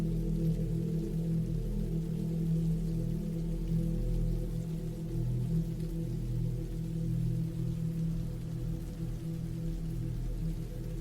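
Steady rain falls in a continuous, even wash of patter, a constant moderate drizzle with no voices and no distinct drops standing out.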